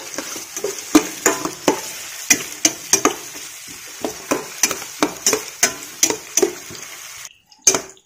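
Chopped onions with a quarter teaspoon of salt sizzle in a hot pan for a Kerala chicken ada filling, with a steady fry hiss broken by regular sharp scrapes and clacks of a spoon stirring against the metal.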